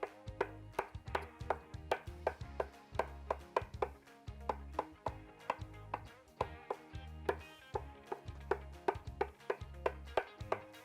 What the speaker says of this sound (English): I'm just going to run my knife through it one more time, make sure I have all nice little pieces.